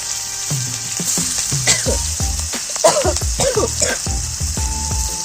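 Chopped onion fries in hot oil with a pinch of salt: a steady, loud sizzle, broken by repeated scraping and stirring strokes of a spatula in the pan, with a voice speaking faintly.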